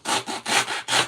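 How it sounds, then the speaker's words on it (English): A small handsaw cuts through a foam pool noodle in three quick back-and-forth strokes, each a close, raspy, rubbing rasp. "So I'm just using a little handsaw."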